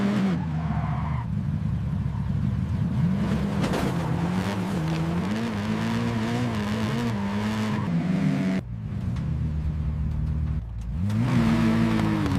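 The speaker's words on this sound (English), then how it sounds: "flying down the mountain trail, engines screaming, dust everywhere" Off-road cars race down a dusty mountain trail, engines screaming and revving continuously and loud at close range, with tire skids, surging and dipping pitch, and short drops in the roar.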